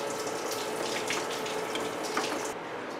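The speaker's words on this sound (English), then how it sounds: "all I'm doing is letting the water drain out from over there and have it be inputted into here" Water draining from a car radiator into the degasser tank during a radiator flush, a steady close rushing trickle that continues without a break and softens slightly near the end.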